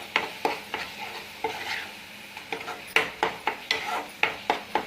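A spoon stirs and mixes sundal masala in a frying pan, making rhythmic scraping strokes against the pan over a soft sizzle, close and fairly clear, with no speech.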